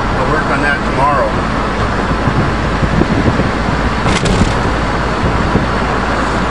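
A diesel-modded caravan driving, with a loud, continuous engine and road rumble heard from inside and a brief rattle midway. A voice speaks over it.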